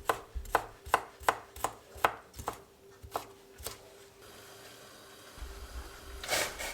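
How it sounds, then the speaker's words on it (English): A knife chops through fresh mallow (ebegümeci) stems and leaves on a board in a steady run of about ten crisp, close strokes, followed by a quieter stretch of light rustling and a louder scrape at the end. "sliced the stems more thinly and then a bit more coarse on the leaf sides"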